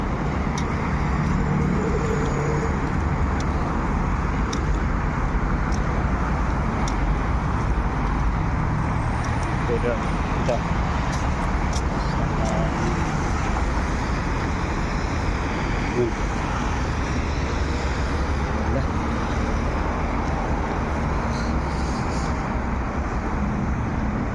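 Dense, continuous street traffic on Olaya Street in Riyadh, with a steady roar of cars, buses and trucks passing close by under an overcast sky, heard while walking along the road.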